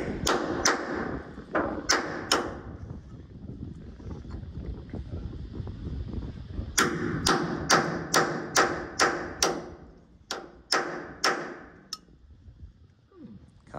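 A hammer strikes a chisel while stripping out an old steel trawler, sharp ringing metallic blows in quick bursts of several hits with pauses between, close and loud over faint background rumble.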